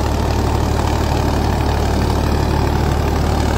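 Farmtrack 65 EPI tractor engine running steadily at a constant idle, a loud, close, low diesel rumble with a faint knocking rhythm and no voices over it.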